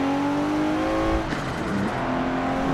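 A Nissan GT-R R34 engine drones steadily and climbs in pitch in Forza Motorsport 7, then drops briefly at a gear change before pulling again, loud and close with no talking.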